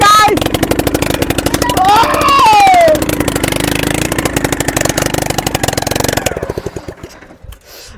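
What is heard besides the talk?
bike engine of three-wheeler running under full load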